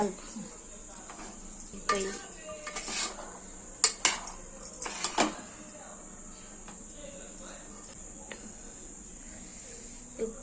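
Boiled chickpeas for prasadam are stirred in a pan, with irregular metallic scrapes and clinks of the spoon against the pan and a faint sizzle, set against a steady high insect chirr in the background.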